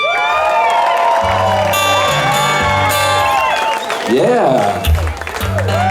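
An audience at a concert at Hotel California in Todos Santos, Mexico, loudly claps, cheers and whoops, with shouted voices and music sounding over the crowd noise.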